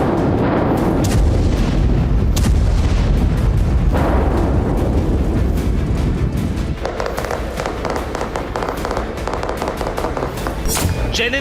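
A series of loud explosions and sharp blasts from IEDs and fighter jet bombing, one booming after another over a continuous roar, some close and harsh, others more distant.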